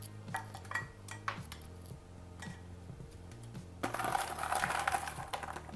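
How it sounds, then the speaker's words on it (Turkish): Frozen raspberries, 450 grams, scattered onto meringues, making light clattering and ticking taps against a dish, followed by a denser rattling patter near the end, close and quiet. "Ve 450 gram frambuazımı bezelerimin üzerine serpiştiriyorum."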